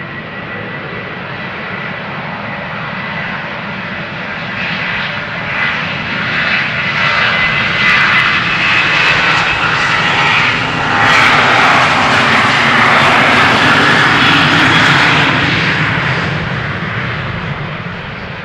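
Jet airliner departing Schiphol's Polderbaan runway 36L, a loud engine roar that swells and brightens toward the middle and then eases slightly, sustained throughout with no voices.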